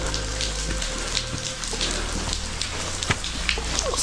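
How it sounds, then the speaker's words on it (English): Rain falls outside a wet cave near Castle Crag in the Lake District, a steady close patter of drops on rock and ground with occasional louder drips and a low background hum. "To be honest, I could do with just getting out the rain."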